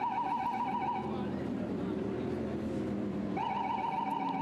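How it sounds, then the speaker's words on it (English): Pit lane siren at the Nürburgring during a Lamborghini Super Trofeo Europe race, a steady two-tone wail sounding continuously in the background, briefly dropping and then returning, with car and track noise and commentary over it. "Every car that comes in sets off the pit lane siren that you can hear in the background."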